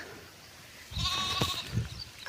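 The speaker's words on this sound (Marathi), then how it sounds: "मागं मेंढ्या येत आहेत आपल्या" A sheep bleats a couple of times over quiet outdoor background, the calls short and fairly close, with a faint higher tone running beneath.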